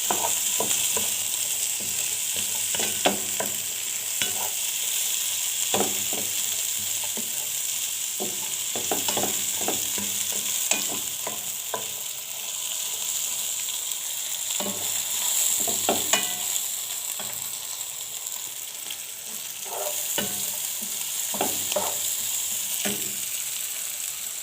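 Shrimp and peppers sauté in a hot pan, sizzling steadily while a utensil scrapes and stirs in repeated short strokes, close and moderately loud, with no talking.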